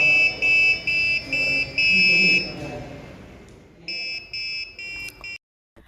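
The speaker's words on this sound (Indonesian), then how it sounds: "Percobaan berhasil dengan buzzer berbunyi sesuai nada yang telah diprogram" An electronic buzzer beeps out a short programmed tune in repeated shrill tones, pauses, then plays the phrase again before cutting off.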